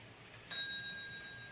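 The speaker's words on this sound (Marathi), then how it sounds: "घंटी वाजव" A child's bicycle bell gives a single bright ring, close and clear. Its metallic tone rings on and fades over about a second against a quiet background.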